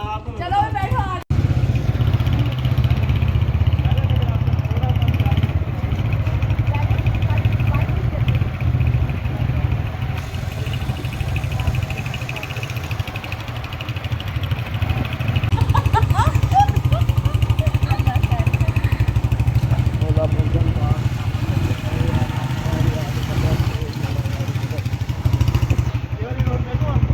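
A motorcycle engine runs during a riding lesson, a steady low idle with light throttle blips, close and continuous beneath intermittent conversation between rider and instructor.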